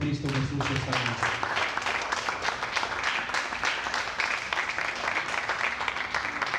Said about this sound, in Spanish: Vamos a darle un fuerte aplauso a Cristo Jesús esta noche.